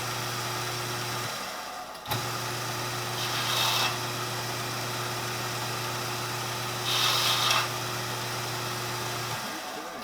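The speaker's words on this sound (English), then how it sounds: "I'm just going to slip over to the belt sander, cut that tab down a little bit" A belt sander trims down a brass ramrod pipe tab, a steady motor hum with two bursts of harsher grinding as the metal is pressed to the belt, close and loud, ending as the machine winds down.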